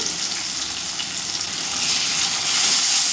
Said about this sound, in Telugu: పచ్చివాసన పోయినంత వరకు ఇలానే ఫ్రై చేసుకోవాలండి